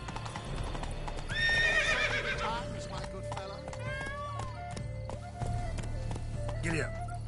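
Horse hooves clip-clop in a quick galloping rhythm in The Witcher 3: Blood and Wine, with a sharp neigh and whinny near the start, while voices talk over the riding.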